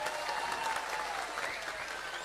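An audience at a religious lecture gathering applauds the event organizers, a dense burst of clapping from many hands that fades slightly toward the end.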